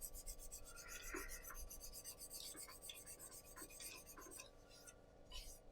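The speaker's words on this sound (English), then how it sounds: "just quickly sanding off the rough tool marks, so prepping it for the actual sanding of it" Steady, close rasping as sandpaper rubs rough file marks off a handmade pen blank, an even continuous scratching with faint whispery strokes and no speech.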